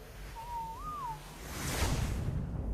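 An owl-like bird in ARK: Extinction Core gives a single hoot that rises and falls, followed by a broad ocean-like wash of ambient game sound.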